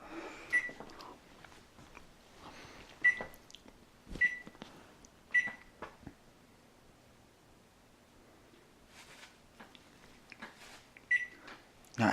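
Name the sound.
oven being preheated, control beeps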